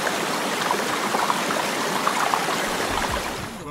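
A small creek at Coronda flows steadily, giving a close, continuous rushing trickle with no voices over it.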